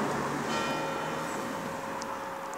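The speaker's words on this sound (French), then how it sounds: "ça, c'est le gong qui nous dit on est en retard" A bell gong rings steadily with a sustained resonant tone over a loud, dense wash of background noise, heard near the Dacia Sandero Stepway LPG crossover, no voices.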